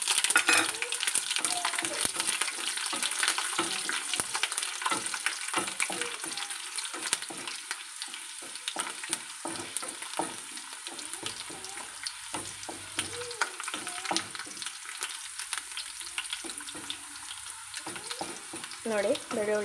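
Chopped garlic and mustard seeds fry in hot oil for a vegetable stir-fry, giving a continuous, close crackling sizzle with scattered spatters and occasional clinks of a stirring utensil against the pan, with no talking.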